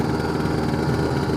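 A Lambretta scooter fitted with a BGM PRO MZ30 exhaust runs loud and close, a steady buzzing engine note held high with no pause and no talking.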